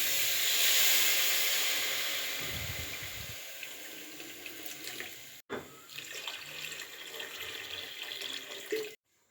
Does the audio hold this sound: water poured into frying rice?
yes